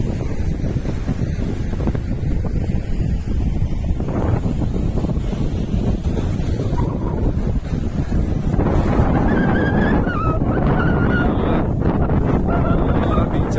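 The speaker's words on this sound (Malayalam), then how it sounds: "നല്ല കാറ്റ്. എന്താ കാറ്ററിയാം." Strong wind buffets the microphone on Ezara beach in Kannur, Kerala, a steady loud roar for the whole stretch with surf mixed in and brief faint talk underneath.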